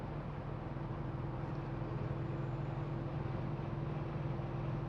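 A Toyota Supra Mk2 cruises at about 60 miles an hour, its interior filled with a steady low engine drone and road rumble, moderately quiet and unchanging, with no talk.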